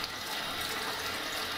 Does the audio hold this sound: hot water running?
yes